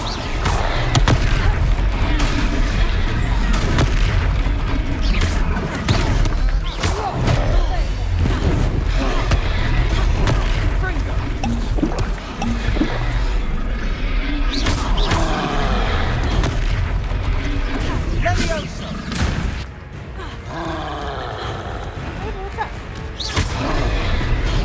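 The Confringo explosion spell in the game Hogwarts Legacy sets off repeated loud booms and crashing impacts amid continuous dense combat noise, with voices calling out over it.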